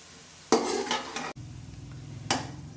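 Light-brown fried onions being lifted out of a pan of hot oil, with scraping and clinking of a spoon against the pan over a continuous sizzle, close and fairly loud.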